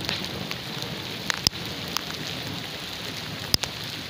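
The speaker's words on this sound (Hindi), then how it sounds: "बारिश भी बाहर शुरू है" Steady rain falls outside, a continuous close hiss of drops on surfaces, broken by two or three sharp louder drips or taps.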